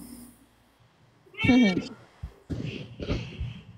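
A pet cat named Cookie, a male, meowing indoors, one drawn-out close meow followed by softer vocal sounds, with a voice speaking around it.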